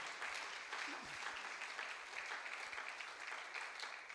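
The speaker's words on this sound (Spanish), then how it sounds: "dele un fuerte aplauso al Rey" A church congregation claps together in sustained applause, a steady and fairly faint wash of hand claps that holds evenly from start to finish.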